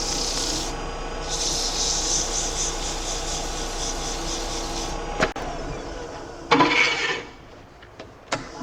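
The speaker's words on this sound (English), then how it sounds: "I'm going to sand it a little bit." Sandpaper rubbing against a hollow wooden ornament spinning on a lathe, a steady close rasping hiss for about five seconds, then silence broken by a few short scuffs and knocks.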